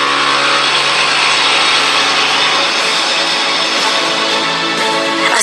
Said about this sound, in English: Dad thought he heard the sound of an engine